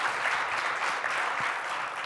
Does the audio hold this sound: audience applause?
yes